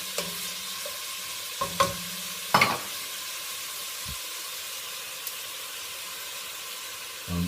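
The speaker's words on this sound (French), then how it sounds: "Pour l'instant, on fait cuire toute notre viande." Meat cooking for pancit bihon, a steady soft sizzle in the pan with a few sharp knocks and clatters of the stirring utensil scattered through, close and moderately quiet.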